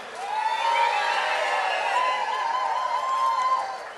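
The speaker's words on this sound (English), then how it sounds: "give us a bit of a cheer" A festival audience at the Falmouth Oyster Festival cheers for chef Nick during a cooking challenge, a moderate swell of whoops and applause-like crowd noise held steady for several seconds, with a high whistle or tone running through it.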